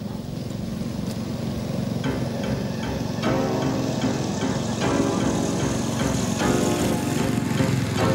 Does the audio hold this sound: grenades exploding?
no